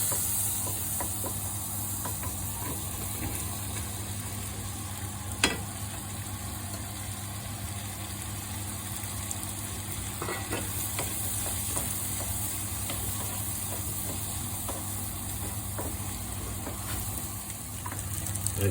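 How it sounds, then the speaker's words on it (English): Onions fry and get stirred in a pan for spicy scrambled eggs with blended chili, garlic and ginger, a steady low hiss with scattered utensil scrapes and one sharp clack partway through. "Okay, see the onions are cooking down there now."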